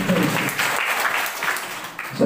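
Continuous applause fills a church service in an Indonesian congregation, a dense, steady clapping texture lasting the whole moment, fairly loud and close, with no break.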